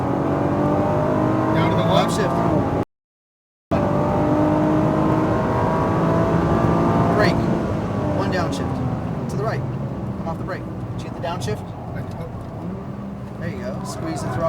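A Nissan GT-R engine on a race track climbs steadily through the revs as throttle is added, held loud and close for most of the stretch with one brief gap. An instructor's voice talks over the engine.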